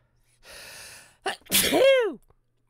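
A single loud sneeze close to the microphone, with a short breathy intake first, then a sharp burst and a falling vocal tail.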